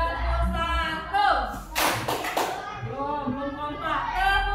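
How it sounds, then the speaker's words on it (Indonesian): Several sharp hand claps burst out together in a quick cluster near the middle, with children's voices talking before and after. "Biar lebih semangat lagi, kita tepuk semangat dulu ya"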